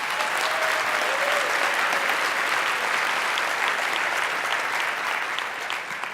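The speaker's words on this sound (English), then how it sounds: "I think we all owe Matt and Jason a huge round of applause for what they do." An audience at a business talk breaks into a huge round of applause, a dense, loud and steady wash of clapping that carries on without a break and with no voices above it.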